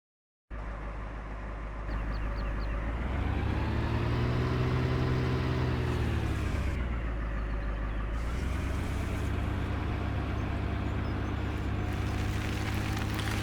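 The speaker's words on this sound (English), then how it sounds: "Let's get back in our truck." A truck engine in the Farming Simulator 17 video game runs steadily and loudly. The tone rises as the engine revs up, dips, and then settles into a continuous drone with no talking.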